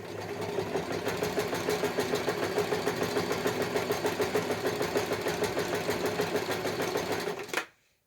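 A sewing machine quilting a hot water bottle cover runs in a fast, steady needle rhythm, close and continuous for several seconds before stopping abruptly.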